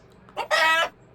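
A chicken lets out a short, sharp cluck followed by a louder squawking call, close by, in an otherwise quiet setting.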